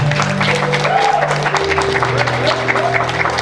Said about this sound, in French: On applaudit cet esprit, mon frère.